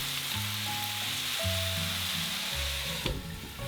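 Water poured onto frying bacon in a pan makes a steady sizzling hiss over a sustained low tonal background, with a brief sharper burst near the end.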